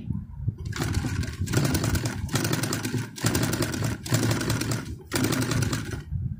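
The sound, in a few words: sewing machine stitching fabric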